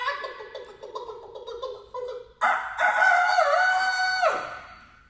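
A person imitates a chicken, first with a string of short clucking calls, then a loud drawn-out crowing cry held for nearly two seconds before fading, close and alone.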